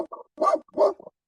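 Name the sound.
dog barking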